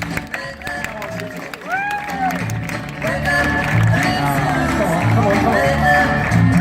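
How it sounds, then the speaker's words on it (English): Spectators at a sheep show clap for Susie, a Southdown sheep. The applause builds into steady, dense clapping over background music while a host talks. "Let's have a big clap for our little sheep"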